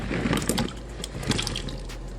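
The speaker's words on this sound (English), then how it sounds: "And also I'm going to pour the potatoes in." Diced potatoes are poured into a pot of water on the stove for a nutrition-focused meal, giving a brief burst of splashing and plopping up close, then settling into quieter liquid sloshing.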